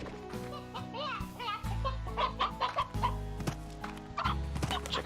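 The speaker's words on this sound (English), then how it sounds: "Chickens." Chickens in the Slime Rancher game cluck in short, repeated bursts over a low musical backdrop, several birds overlapping at moderate loudness.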